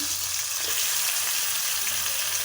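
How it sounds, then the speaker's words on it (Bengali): Chicken pieces coated with turmeric and chili fry in a pan, a steady close sizzle of hot oil running unbroken throughout with faint low hum beneath. "মুরগির কুস্তগুলোকে চুলাতে বাজার জন্য হলুদ মরিচ দিয়ে বেজে নিব"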